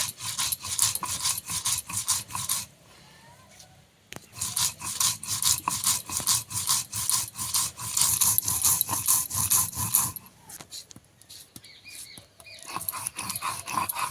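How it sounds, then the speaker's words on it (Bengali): Mustard paste being ground finely on a stone for shorshe ilish, a steady close scraping and rubbing in rapid back-and-forth strokes, broken by short pauses, with no talk. "এবারে ভালো করে মিহি করে বেটে নেবো"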